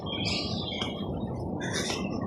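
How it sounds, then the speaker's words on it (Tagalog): Morning birds chirp in an outdoor rural spot near an orchard, with a few bright bursts of calls standing out over a steady, noisy background. "Yung mga huni lang ng ibon dito maririnig mo."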